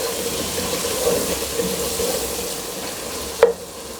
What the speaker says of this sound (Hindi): हल्दी डाल के 1 से 2 मिनट के लिए हमने भूनना है